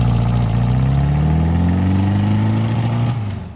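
A 1975 Honda Goldwing engine with four freshly tuned carburetors, popping and bogging between 3,000 and 5,000 RPM, revs up with a rising pitch, then drops off sharply near the end. The engine is loud and close.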